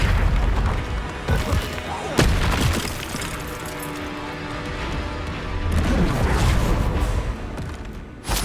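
Confringo explosion spell in Hogwarts Legacy during a magic duel, with loud booming blasts and crashes over dense, continuous rumbling combat noise, plus several sharp hits spread throughout.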